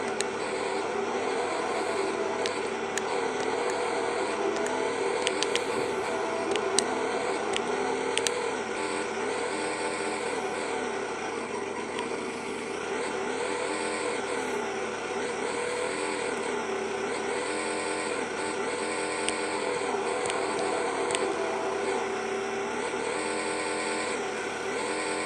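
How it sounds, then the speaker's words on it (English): A monster truck engine drones steadily through a coaster-park video game lap, a continuous loud motor hum with rising and falling revs and occasional clicks, with no voices. "So I'm just driving the monster trucks"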